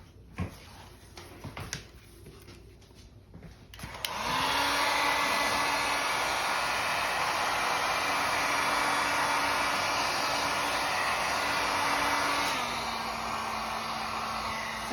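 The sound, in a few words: heat gun heating pool noodle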